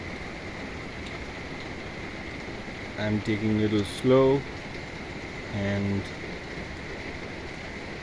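Heavy rain falls steadily outside on the Annapurna trek in Nepal, an even hiss that runs throughout while someone speaks briefly over it.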